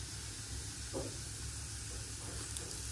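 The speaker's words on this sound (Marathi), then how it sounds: "आता मोहरी तडतडल्यानंतर आपल्याला जिरा टाकायचं आहे थोडं." Mustard seeds, cumin and asafoetida sizzle in hot oil in a home kitchen, a steady close crackling fry with a few louder spits and no voices.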